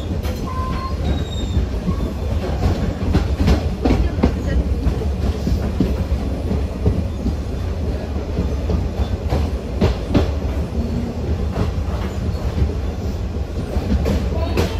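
MEMU Express train running on rails between Chennai Central and Bitragunta, arriving near Nellore: a steady, loud rumble of wheels and carriage with intermittent clicks and faint squeals throughout.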